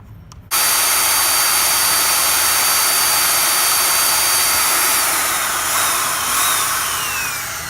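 A power drill fitted with a 1-inch bore bit cuts a doorknob hole through a door, a loud, steady high-pitched whine that starts abruptly and holds for several seconds, close by, with no talking.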